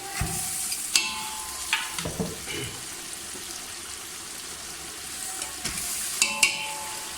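Yakhni broth is poured onto beef pieces frying in a cooking pot for beef pulao, raising a bubbling sizzle with intermittent stirring clanks and splashes, close by and with no talking.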